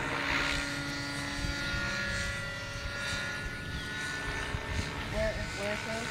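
A radio-controlled model helicopter flown like a plane over a runway drones steadily with a rotor hum throughout, mid-distance, while people talk alongside it.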